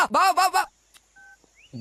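Telephone keypad dialing tones sound in a Telugu film scene: a short burst of voice, then a brief electronic two-tone beep, with a few soft clicks and another voice starting at the end.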